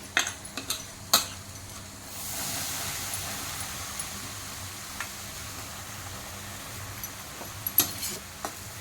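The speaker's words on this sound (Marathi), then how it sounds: "आता आपल्याला हा चुरमा त्याच्यामध्ये टाकून द्यायचा आहे" Chana dal churma being stirred into hot ghee in a pan, a soft steady scraping and sizzling wash with a few sharp clinks of a spoon against metal near the start and end.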